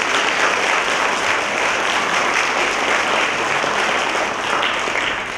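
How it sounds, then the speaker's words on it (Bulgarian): An audience at a GERB election campaign closing rally in Gorna Oryahovitsa applauds loudly and continuously, a dense, even wash of many hands clapping with no break and no talk over it. "Аплодисменти за тези прекрасни хора."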